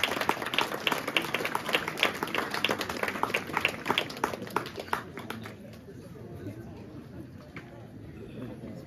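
Loud applause and clapping from a crowd at a parish golden jubilee celebration, dense and sustained for about five seconds, then fading into quieter chatter and scattered claps.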